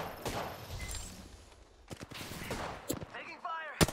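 Bursts of automatic weapon fire in an Apex Legends match, several volleys of shots close by, rising and falling over the game's background noise, with a voice briefly speaking near the end.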